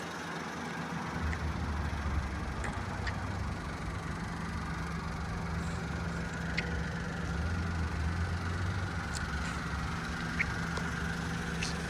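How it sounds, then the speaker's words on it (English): A 1994 Mitsubishi Minicab 4x4 with a 5-speed manual idles steadily, its small engine giving a constant low hum close by, briefly rising as it is revved, with no talk. "Go ahead and give it a bit of a gas so you can hear the engine."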